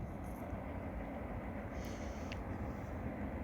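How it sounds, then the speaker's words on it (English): A train rolls past near a river, a low steady rumble of wheels and cars, fairly faint and continuous with no voices. "let's have a look at the train"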